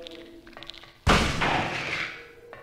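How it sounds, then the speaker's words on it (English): A single loud shotgun blast in Silent Hill killing a monster in the sewers, a sharp broadband burst with a decaying rumble. Quieter game ambience comes before it. "That's one shotgun bullet that killed it."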